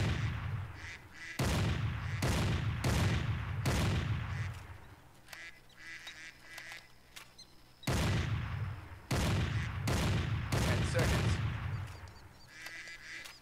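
A hunting rifle fires in Cabela's Big Game Hunter 2010, with several booming shots, each trailing into a long echoing decay, arriving in two clusters alongside duck quacks and game sounds.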